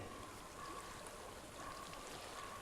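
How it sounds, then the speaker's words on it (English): Flowing water in Hellblade: Senua's Sacrifice, a faint, steady rushing wash like a distant stream, unbroken throughout with a soft tonal hum beneath. "I hear water"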